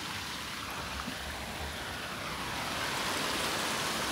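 A car drives through flowing stream water near a waterfall, giving a steady, broad rushing wash of water that grows slightly louder toward the end with no speech.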